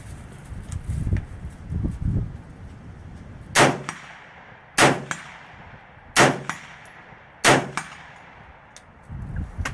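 Four sharp rifle gunshots, evenly spaced and loud, fired during a torture test of a Sniper brand 6x32IR scope, each crack ringing out briefly over a quiet outdoor background.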